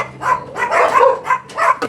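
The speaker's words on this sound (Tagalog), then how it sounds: "maingay yung aso" Dog barking in a short burst of several loud, close yips and barks, heard during work converting a push-button electric fan to a rotary switch.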